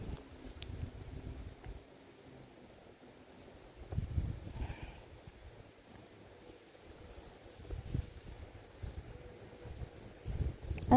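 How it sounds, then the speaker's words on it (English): Gusty wind buffets the microphone outdoors in uneven low rumbling surges that swell and fade over the length of the clip, with no voices. "It's so windy."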